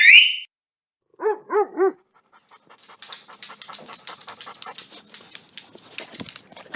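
A dog whines and yelps in a few short rising cries, then pants rapidly in a steady, close rhythm.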